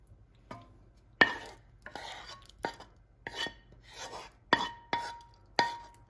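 Salt cod for bacalhau com natas spooned into a baking dish, soft scraping rubs punctuated by several light clinks of utensil on dish, quiet and close, with no voices.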